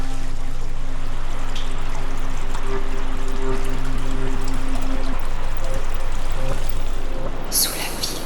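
Steady rushing water of a stream flowing continuously, loud and close, with a low hum underneath and a sharp burst near the end.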